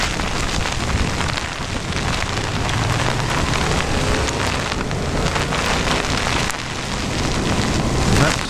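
Heavy rain during an approaching storm pours steadily and densely for the whole stretch, a loud, unbroken roar of drops hitting surfaces nearby, swelling slightly near the end, with no voices.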